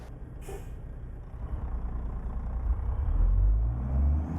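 In the American Truck Simulator video game, a waste management garbage truck gives a sharp hiss of air brakes. A deep engine rumble then builds and swells as the truck pulls away, loud and close.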